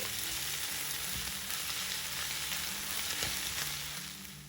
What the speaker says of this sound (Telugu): మొత్తం కలిసేలా కలుపుకొని మరి కొంచెం సేపు వేగనివ్వాలి.